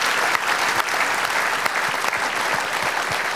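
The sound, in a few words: audience applause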